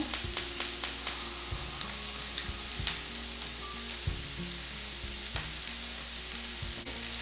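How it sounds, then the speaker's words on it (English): Minced garlic sizzles in a pan over lowered heat, a steady close hiss with a few sharp taps of a utensil at the start and occasional stirring knocks. "we're gonna add our couple of teaspoons of minced garlic"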